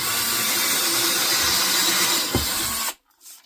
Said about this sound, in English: I'm also going to drill a hole to hang it